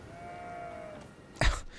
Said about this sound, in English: It might have just been a goat right enough.